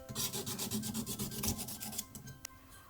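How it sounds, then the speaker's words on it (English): Sandpaper wrapped around a wooden stick rubs a handmade wooden jewellery piece in quick, even back-and-forth strokes, a soft close rasping with a steady rhythm. "So now I'm just gonna sand it so that it's all nice and smooth"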